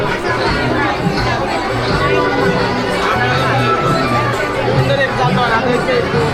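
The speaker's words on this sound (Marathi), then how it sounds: "गर्दी खूप आहे." Dense, continuous crowd chatter fills a busy Siddhivinayak Ganpati temple in Titwala, a steady loud babble of many overlapping voices with no single speaker standing out.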